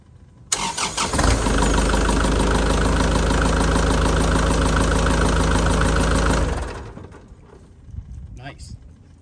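A Kubota MX4800 tractor cranks briefly, then its engine catches and runs loud and close at a steady idle for several seconds before cutting off, with a little quiet talk afterward.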